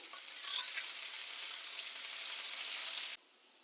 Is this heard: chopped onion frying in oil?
yes